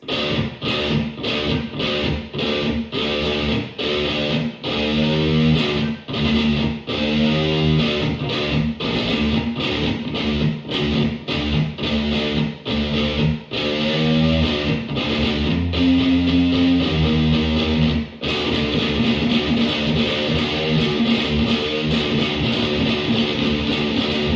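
An electric guitar plays the opening part of a song at a slow tempo, with a regular pattern of picked, slightly distorted notes and chords across about twenty-four seconds, alone and fairly loud.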